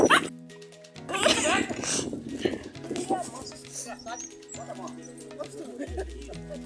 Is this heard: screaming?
no